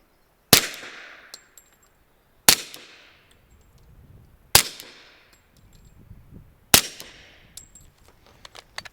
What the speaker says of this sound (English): let's see how 4 shots out of the Dead Air Ghost sounds